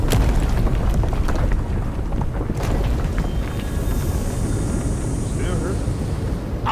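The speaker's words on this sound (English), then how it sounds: "That was a damn big explosion, wasn't it?" A big explosion in the fantasy video game Avowed opens with a loud, deep boom. It settles into a long, rumbling roar that slowly fades.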